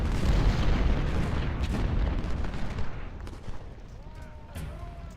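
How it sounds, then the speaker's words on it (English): Artillery fire in Ultimate General: Civil War: a dense, steady wall of booming cannon and crackling gunfire that rolls on throughout, fading slightly near the end, with a voice occasionally heard beneath it. "Alright, gonna take out their artillery."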